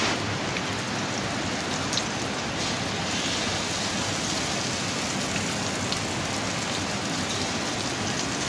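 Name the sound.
heavy rain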